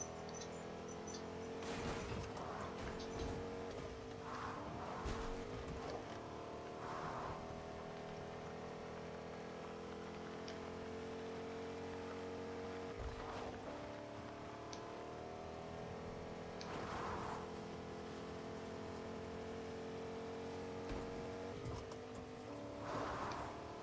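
A truck driving in a shooter video game, a steady engine drone with rumbling low end running throughout, broken by sharp bursts that sound like gunfire and brief swells of mechanical noise.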